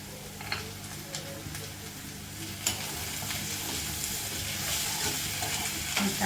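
Tomatoes go into a pan of softened onions for an egg roast. A steady, gentle sizzle of frying runs throughout, with soft scraping stirs at intervals, heard close and fairly quiet.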